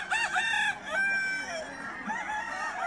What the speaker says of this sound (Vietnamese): toàn là gà trống các bạn ạ